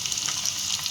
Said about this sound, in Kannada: ಬೆಳ್ಳುಳ್ಳಿ ಸ್ವಲ್ಪ ಎಣ್ಣೆಯಲ್ಲಿ ಫ್ರೈ ಆಗಬೇಕು